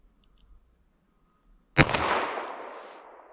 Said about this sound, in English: Let me just aim right on center of the headshot target there and see if I can get a hit.